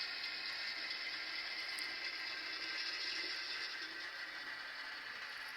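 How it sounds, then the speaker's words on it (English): A BLI model train locomotive running on track with a steady grinding, whirring mechanical noise, faint and continuous, with no talking. "And of course, we have that grinding noise."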